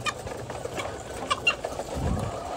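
Laying hens being fed in a rainy-season coop give scattered clucks and short calls, some close and some farther off, over a soft background of rustling and rain.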